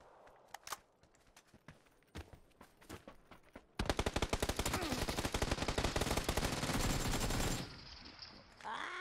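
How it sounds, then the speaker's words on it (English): Rapid automatic gunfire in PUBG, a loud dense burst of sustained shots lasting several seconds after scattered single pops and footsteps, then cutting off. "Somebody's shooting at him."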